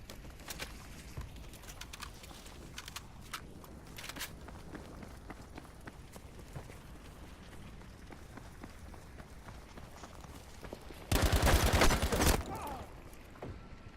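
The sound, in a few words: fire storm crackling, similar to footsteps, in video game Battlefield 5 Firestorm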